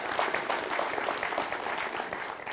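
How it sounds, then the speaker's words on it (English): Audience at a community college convocation giving a round of applause, continuous dense clapping from many hands filling the room at a steady level throughout. "So let's give yourselves a round of applause"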